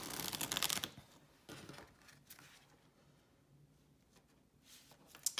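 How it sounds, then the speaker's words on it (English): An oracle card deck shuffled by hand, soft riffling and papery flicks in a few bursts, quiet and close, no talking. "I'm going to give the deck a shuffle as I always do."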